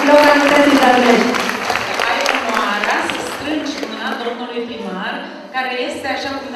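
An audience applauds at a festival award ceremony in Romania, clapping loudly and densely at first then thinning, while an announcer talks over it through a sound system.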